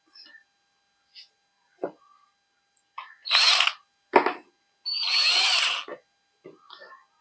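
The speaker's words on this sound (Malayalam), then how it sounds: "ഇതും രണ്ടും ഇതിൽ വെച്ചിട്ട് ഇതുപോലെ സ്ക്രൂ പിടിപ്പിക്കുക" A drill drives screws to fasten two pieces together, two short whirring bursts around a half-second and a second long, separated by quiet handling knocks and clicks, fairly close.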